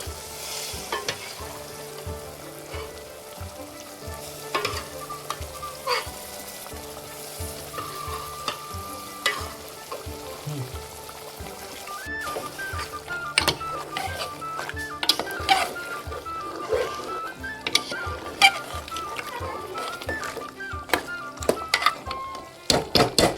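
Boiled mutton pieces frying and being stirred in masala, a steady sizzle with scraping stirs that grows busier and louder in the second half, no talking.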